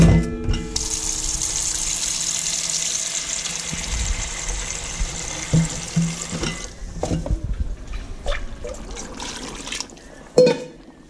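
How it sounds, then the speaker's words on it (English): Water poured into a pot of mashed, thickening red beans for Louisiana red beans and rice. A steady rushing pour runs for several seconds, then gives way to soft stirring and a few clinks. "I'm gonna add a little bit more water."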